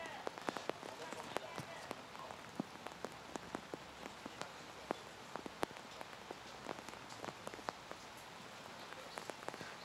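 Steady rain patters on surfaces at an outdoor archery venue in Tokyo during a recurve mixed team gold final, with scattered sharp drop impacts throughout and a constant hiss, moderately faint overall.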